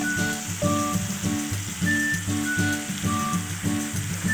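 Squid stir-frying in black ink in a pan gives a steady sizzle under repeated rhythmic clatter, like a spatula tossing the pieces about twice a second, with faint tonal music-like notes in the background.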